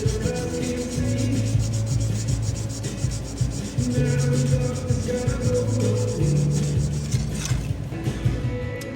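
A steel horseshoe rasp being made into a dagger gets polished, with steady repeated rubbing and grinding strokes nearby in an even rhythm, and no talking.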